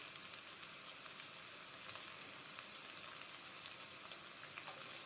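Garlic pieces sizzle steadily in a hot pan while cooking Gobi rice, a dense, even crackle with small pops throughout and no voices.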